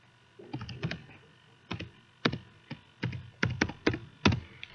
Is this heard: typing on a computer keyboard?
yes